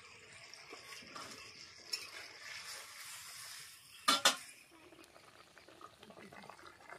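Fish and ridge gourd curry gravy simmers in a pot in a home kitchen, a faint steady bubbling and sizzle with a brief clatter of a utensil midway.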